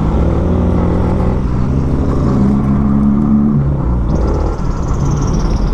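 A Rusi AdventureX 150i scooter rides through traffic, a continuous engine hum and road rumble from onboard, with surrounding vehicles passing and a steady whirring tone throughout.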